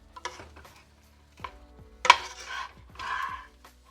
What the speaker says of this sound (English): we'll start mixing in some of the rice in here. Makes it an even more goopy texture.